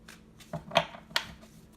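Brief soft flicks and riffles of tarot cards being shuffled, a few quick papery bursts close by with quiet gaps, no voices.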